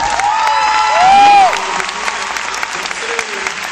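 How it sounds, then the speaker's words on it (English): A crowd at a 2005 Joyful Noise tour concert in Clearwater applauds and cheers for the crew, loud sustained clapping with scattered whoops and a few high shouts rising briefly over it. "Come on, give the crew a round of applause."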